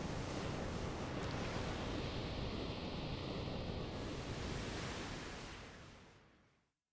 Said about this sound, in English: Now the water is receding.